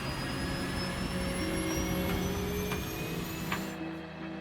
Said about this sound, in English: You can hear the captain trim the plane down.